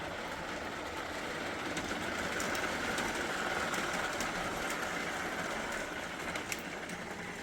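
A small motor whirs steadily with a fast rattling clatter of wheels on track, continuous and fairly quiet, an O27 model train powered by a 12-volt marine battery through an inverter.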